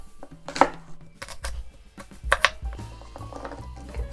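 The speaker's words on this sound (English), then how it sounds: "So I cut this half an apple into about 6 slices." A knife slicing half an apple into about six pieces on a board, with several crisp, separate cutting strokes and knocks at an uneven pace, fairly close and with no talking.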